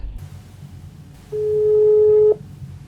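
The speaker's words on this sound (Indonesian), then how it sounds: "Langsung aja yuk Mbak Redanya kita telepon." A telephone ringback tone sounds once as a call is placed to an interviewee, a steady, clear beep lasting about a second over faint background hum.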